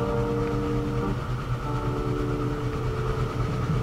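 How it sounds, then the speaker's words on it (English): A steady rumbling engine-like drone, like a train, in the video game Yandere Simulator; a continuous mid-low hum with faint vibration and a slight tonal shift early on; no talking. "That sounds like a train."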